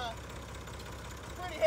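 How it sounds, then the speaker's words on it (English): A tractor engine hauling bulk feed runs steadily at close range, a low continuous rumble and drone throughout with a slight swell at the end. "You got to hear that tractor talking to me"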